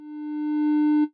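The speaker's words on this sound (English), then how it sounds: "It fades up in volume." A pure low sine tone swells gradually from quiet to loud over about a second under a slow rising control voltage on its volume, then cuts off abruptly.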